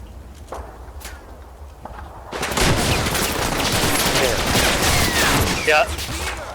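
Submachine gun fire in a video game erupts after a quiet stretch with a few footsteps, becoming a dense, sustained volley of rapid shots for several seconds, loud and near.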